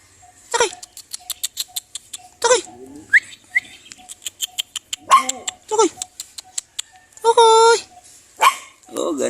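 A puppy yips and barks in short repeated bursts throughout, close and fairly loud, with people talking and laughing around it in between.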